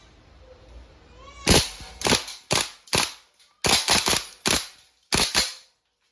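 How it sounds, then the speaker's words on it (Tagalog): Loud sharp bursts of gunfire from a WE M4 RIS v3 gas blowback airsoft rifle on full auto, fired in about seven quick clusters with short pauses between them, close to the listener and with no talking. "Okay, full auto. Full auto, firing."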